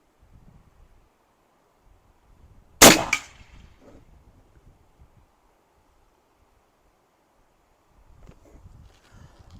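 A single loud, sharp report from an AEA Element Max .50 caliber air rifle, a sudden crack that decays quickly and stands alone against near silence, with faint wind and low handling noise before and after.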